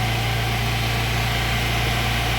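A 2003 Toyota Kijang car engine held at steady revs during a tune-up, producing a constant, loud droning hum with no change in pitch.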